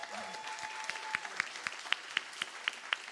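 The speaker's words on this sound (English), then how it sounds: "Clap it up." A live show's audience applauds for a band, a moderate patter of clapping with sharp, distinct claps from nearby hands standing out over a softer crowd.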